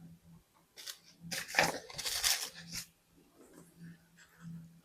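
Sticker paper being cut with scissors for a Rosey planner compact, a few crisp snipping and tearing bursts up close, with a faint low hum and soft rustling between cuts.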